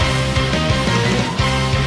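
Sustained violins from an orchestral passage of the Xenoblade Chronicles 2 game soundtrack, playing dense, continuous music at a loud, steady level.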